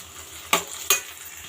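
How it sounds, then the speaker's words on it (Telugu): Onions fry in a pan, a soft sizzle broken by two quick spatula scrapes as they are stirred. "ఇప్పుడు ఆనియన్స్ వేపుకుందాము"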